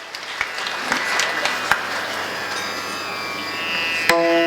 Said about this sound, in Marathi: एकदा जोरदार टाळी वाजवा या परिवाराकरता.